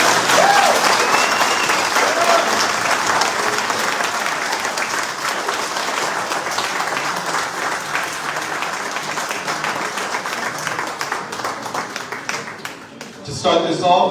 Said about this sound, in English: Why don't we give one more round of applause for General Wesley K.Clark.